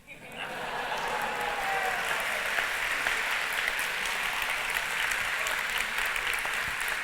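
An audience bursts into sustained, dense applause at a lecture hall talk, steady loud clapping filling the whole stretch with no voice over it.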